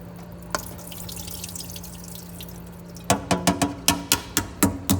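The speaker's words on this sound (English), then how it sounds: "I'm going to rinse this now under cold water" Cold tap water rinses brined grape leaves in a colander, a steady soft running hiss followed by a quick, regular series of close, distinct drips and splashes.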